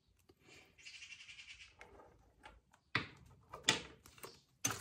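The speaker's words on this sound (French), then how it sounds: "Vous entendez les oiseaux?" Birds chirp through an open window indoors, a brief twittering trill near the start, while sharp close knocks and handling clatter of paper crafting work punctuate the quiet room.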